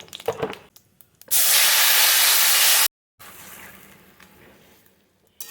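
Cumin seeds and bay leaf dropped into hot oil give a loud, steady spitting sizzle that lasts about a second and a half. It cuts off abruptly, then a softer frying hiss continues.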